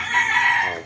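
A gamecock, a nine-time fighting winner, crows once, close and loud, with a strained sustained call that tails off; no voices or other noise.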